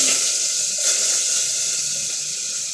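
Steady broadband hiss of water heating in a cooking pot for cooking meat with pechay, close and continuous, with a faint bubbling texture and no voices.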